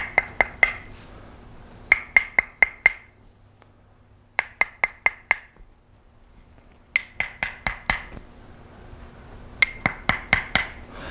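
A small mallet taps a hardwood, teak-like Tok Sen Thai yoga massage stick in quick bright clusters of four to six sharp knocks, separated by short pauses, close and clear in a quiet room.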